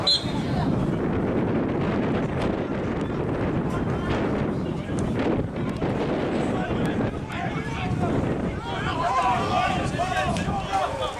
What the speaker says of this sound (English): the wind's blowing a hoolie